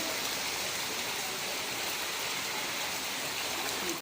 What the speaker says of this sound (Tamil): தண்ணி நல்லா வெள்ளம் வர ஆரம்பிச்சிச்சு